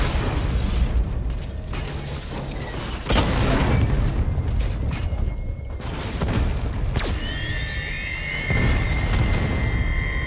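Batmobile tank cannon firing in the Batman Arkham Knight video game, loud booming blasts going off several times over a dense game soundtrack of mechanical noise and effects, with no talk.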